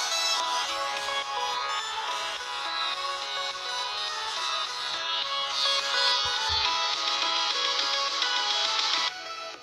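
A melodic ringtone plays loud and bright through the loudspeaker of an LG phone, continuous for about nine seconds before stopping.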